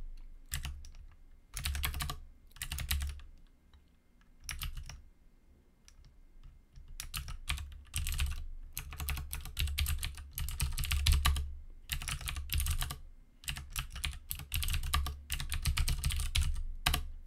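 Tmux commands are typed on a computer keyboard in bursts of rapid close clicking and clacking, broken by short pauses, with no talking.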